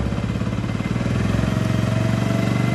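A Hero Splendor motorcycle engine runs loud and close after gearbox and bore work during carburetor tuning, a steady rapid low thumping that rises slightly in pace as the revs are raised, with no talking.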